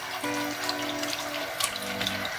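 A faucet runs into a bathroom sink while a makeup brush is rinsed clean of suds, a steady close wash of water with a faint tonal hum and small splashes.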